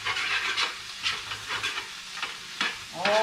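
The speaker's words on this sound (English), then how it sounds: "Toss the ramen and the cabbage around." Ramen noodles and cabbage are tossed and stir-fried in a hot pan with a seasoning pack, giving off bursts of sizzling and scraping in an uneven rhythm, loud and close, with no talk.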